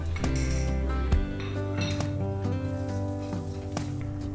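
A utensil stirs cooked vegetables and spices in a pan, giving a few clinks and scrapes against the metal over a steady low hum, with no talking.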